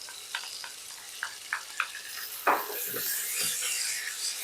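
Turmeric and a ginger-green chili paste fry in a pan for a Bengali mrigal fish curry, a soft sizzle under repeated scraping stirs of a utensil, building to a brighter, louder hiss partway through; no speech.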